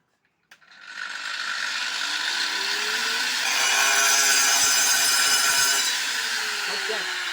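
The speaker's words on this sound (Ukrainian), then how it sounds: "вмикаю болгарку і буду пиляти" An angle grinder starts with a sharp click and spins up, then whines at a loud, steady pitch as it cuts through a ceramic tile, with the tone shifting slightly under load near the end.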